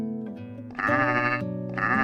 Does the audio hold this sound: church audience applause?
no